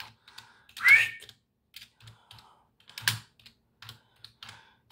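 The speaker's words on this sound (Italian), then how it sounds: "come cazzo faccio adesso col cellulare, dobbiamo scrivere, digitare" Taps on a mobile phone keyboard come in sparse, irregular clicks, with a couple of louder whooshing key sounds standing out, close and otherwise quiet.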